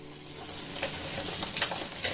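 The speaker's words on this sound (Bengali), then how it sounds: "ব্যাস, এবার এইগুলোকে কষিয়ে নেব খুব সুন্দরভাবে" Boiled potatoes and peas being sautéed with Kashmiri red chili powder and spices in a pan, giving a soft, close scraping stir and a faint sizzle, with a few brighter scrapes toward the end.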